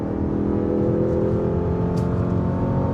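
A Mazda CX SUV's engine strains under full-throttle acceleration, a loud, steady droning roar with layered harmonic whine heard from inside the cabin, continuous and without talk.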